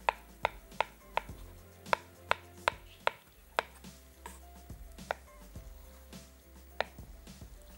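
Knife chopping boiled potatoes into small pieces on a board, a steady run of sharp, close knife taps with brief pauses between bursts.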